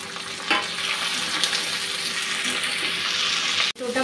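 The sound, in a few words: frying tomato and green chilli in oil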